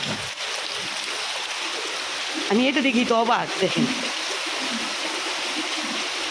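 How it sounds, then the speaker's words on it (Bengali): Steady rushing rainwater from a whole building's runoff pours like a heavy stream, loud and continuous, with a voice speaking briefly over it midway. "কী পরিমাণ বৃষ্টি হয়েছে আর হইতেছে"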